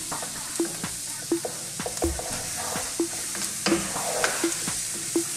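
Sweet peppers fry over fairly high heat, a constant bright sizzle broken by repeated light scrapes and clicks of a utensil stirring them around the pan.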